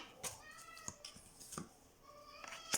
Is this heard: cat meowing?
yes